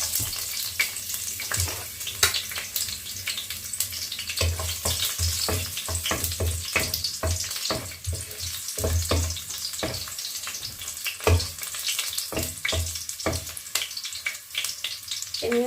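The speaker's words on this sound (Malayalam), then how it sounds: "ഈ എന്താ മൂക്കുന്ന കടുക് താളിക്കുന്നതിൻ്റെ കൂട്ടത്തിൽ കിടന്ന് മൂക്കട്ടെ" Mustard seeds, garlic and chilies frying in oil for tempering, a loud continuous crackling sizzle with dense popping and spattering, close up and without talk.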